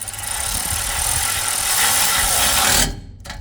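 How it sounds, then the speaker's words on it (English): A 15mm spanner and socket tighten the nuts and bolts of a spoiler bar on a new Ford Ranger pickup, making a dense continuous metallic ratcheting rattle that stops abruptly near the end. "just tighten those nuts and bolts up on there."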